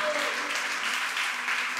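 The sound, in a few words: applause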